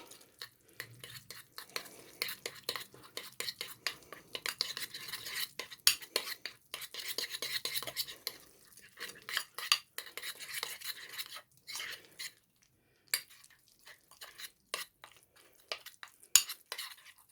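A utensil mixes grachai root into a mixture with irregular scraping and clinking strokes, close and fairly quiet, in bursts with short pauses between.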